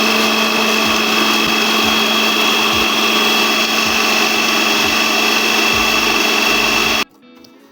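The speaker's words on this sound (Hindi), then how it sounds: "हरी मिर्चें शामिल करेंगे चॉपर में।" A loud electric chopper whirs steadily as it chops green chillies, a constant high motor whine with soft rhythmic thumps from the blades hitting the food, then it cuts off abruptly near the end.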